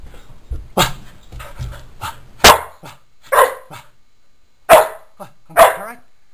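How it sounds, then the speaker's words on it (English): A dog barks in loud, separate bursts spaced a second or so apart, with panting and small whimpers between them, close by and without talk. "What's barking at?"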